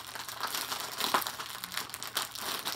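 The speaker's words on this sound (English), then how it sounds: "right now, I'm about to unbox this" Crinkling plastic wrapping of a merch package holding a beanie and scarf, torn and crumpled open in a steady, close rustle with a brief sharper crackle midway.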